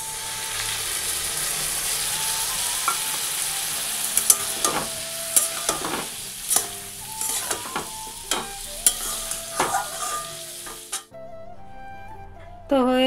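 Potatoes and ground spices fry in a pan, a constant sizzle punctuated by repeated knocks and scrapes of a stirring spoon, before the frying cuts off abruptly near the end.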